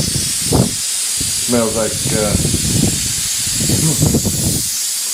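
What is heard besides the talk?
hiss of a line being bled out during apartment maintenance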